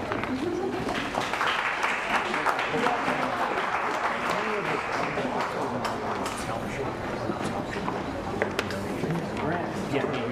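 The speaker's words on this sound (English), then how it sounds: "Let's give all of our contestants a big round of applause" Outdoor crowd applause at a liver mush festival cook-off for the contestants, moderately faint and steady over busy background noise, with voices talking throughout.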